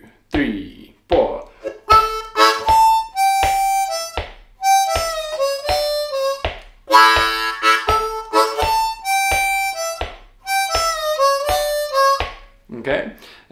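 Solo harmonica plays a bouncy boogie lick twice in a row on a loop, sharp chordal blasts and single notes in a choppy rhythm with short breaths and pauses between phrases, close and loud.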